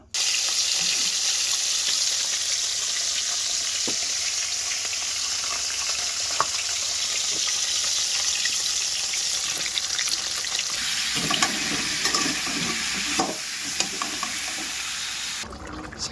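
Vegetables and sweet pumpkin cook in a pan with a continuous, loud, hissing sizzle throughout, broken by occasional clinks and stirring noises near the end.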